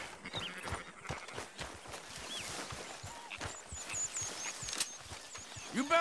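A horse moves in the video game Red Dead Redemption 2, its hooves clip-clopping in an irregular rhythm at middle distance, with faint bird chirps above and a brief horse snort or whinny near the end.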